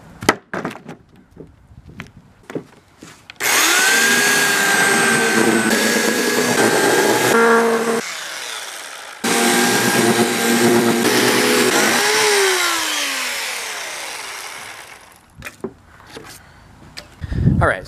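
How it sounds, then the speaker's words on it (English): A loud electric chainsaw cutting up holly tree wood runs steadily for several seconds, pauses briefly, then starts again and winds down, with scattered knocks and clatter around it. "Don't laugh at my electric chainsaw."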